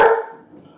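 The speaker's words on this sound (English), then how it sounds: "Barking." A dog named Gus gives a single loud, close bark that quickly fades into faint room noise.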